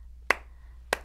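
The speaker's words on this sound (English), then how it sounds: "Abidah Ali gets the slow clap" Two separate hand claps about 0.6 seconds apart, a slow deliberate clap that rings out sharp and close against a quiet background.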